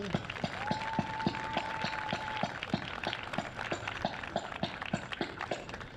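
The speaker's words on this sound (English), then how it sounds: "Can we give your parents a nice round of applause?" Audience applause for students' parents at a high school National Honor Society induction ceremony, steady clapping from a crowd filling the whole stretch, with a few louder individual claps standing out near the front and a brief cheer or whistle early on.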